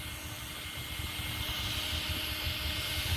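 A 2WD Street Rustler RC car with a 3500 kV, 3660-can brushless motor and 150 amp ESC on 4S runs in a steady, close, high-pitched whine with a rumbling low end, holding constant throughout.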